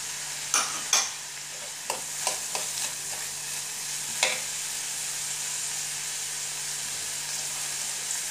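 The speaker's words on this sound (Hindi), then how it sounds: "टमाटर को भी ज़्यादा नहीं भूनना, बस 1 मिनट भूनना है।" Chopped tomatoes and capsicum fry in a pan, a continuous close sizzle broken by several sharp spatula scrapes and clinks in the first half, with no voices.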